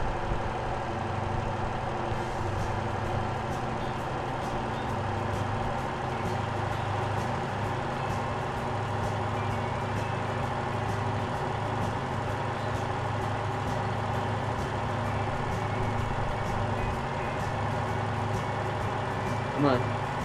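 A truck engine in the video game Motor Town idles and rumbles steadily throughout, a constant low drone with faint periodic clicks, no clear beeping.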